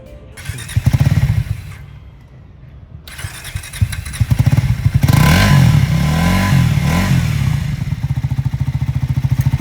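A Triumph Speed 400 motorcycle engine starts and idles loudly and close, revving up to a throbbing, rumbling roar that holds steady.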